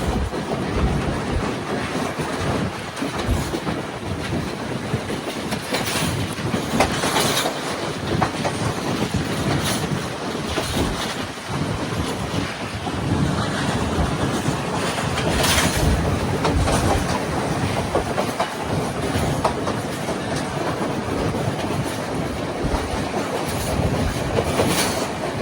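Sri Lanka Railways train running along the coastal line from Colombo toward Bambalapitiya, a steady loud rumble of wheels with rhythmic clickety-clack of rail joints and occasional wheel squeal, heard from onboard with wind, continuous throughout and no voices.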